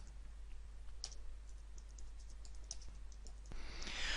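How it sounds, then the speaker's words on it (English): Computer keyboard typing, heard as a few sparse, faint clicks against a quiet background with no voices. "Now let me carry on typing."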